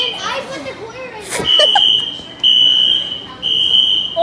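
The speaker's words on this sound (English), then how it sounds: "The fire alarms are going off in here." Fire alarms sounding indoors, a shrill steady electronic tone blaring in repeated long bursts after a brief stretch of children's voices and a sharp bang.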